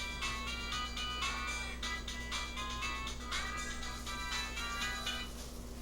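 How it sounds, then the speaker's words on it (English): A phone ringing in a home kitchen, a repeating electronic ringtone melody in short bursts against a steady low hum, fairly faint and without talk. "my phone is ringing."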